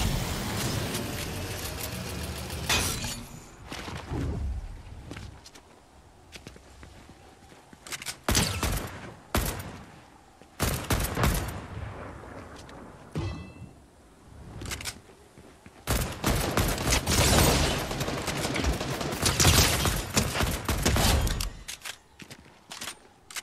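AK rifle fire in the shooter game Fortnite: rapid bursts of gunshots and clattering fusillades scattered across a busy battle, with quieter gaps of footsteps and movement between loud volleys.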